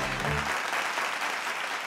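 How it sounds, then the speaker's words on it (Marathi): Sustained applause from an audience at a farmers' award ceremony, dense clapping fairly close, with a brief low voice or tone at the start before the clapping carries on alone. "चला, टाळ्या होऊन जाऊ देत मंडळी"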